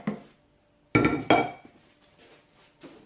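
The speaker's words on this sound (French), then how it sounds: "Je vais venir replacer le couvercle" A Thermomix lid is set back onto the bowl, giving two sharp plastic-and-metal clacks in quick succession, close and fairly loud, followed by faint kitchen rattles with no talking.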